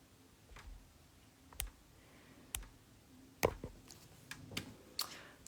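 A computer keyboard and mouse give sparse, faint clicks and short bursts of key taps in a quiet room, spaced irregularly over several seconds.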